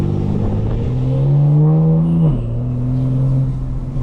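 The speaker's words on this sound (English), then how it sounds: "Car sounds loud and noisy" A 2025 BMW M4 Competition xDrive engine drones loudly, its pitch climbing as it revs, then dropping sharply and settling back into a steady rumble.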